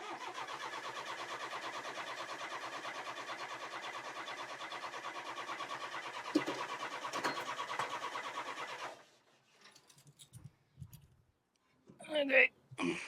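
The diesel engine of a Caterpillar D3 LGP bulldozer with a stuck clutch cranks and runs in a steady, rapid mechanical chugging for about nine seconds. It then cuts out into quiet, broken by scattered clanks and a brief murmur.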